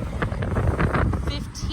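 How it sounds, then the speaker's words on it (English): Strong gusty wind buffets the microphone outdoors in a garden on Terceira Island in the Azores, producing a loud rumbling roar with uneven bursts over about two seconds. "it's so windy today"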